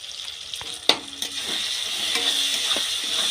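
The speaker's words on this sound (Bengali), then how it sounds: "ভালো করে মশলাটা আরেকটুক্ষণ কষিয়ে নেব" Soybean chunks stir-frying with chicken masala in a pan, a steady close sizzle with a few sharp spatula scrapes and knocks.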